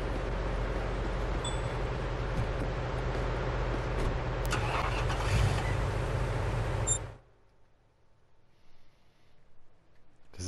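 A car engine hums steadily while driving in the video game Police Simulator Patrol Officers, then cuts out sharply after about seven seconds, leaving only faint low rumble.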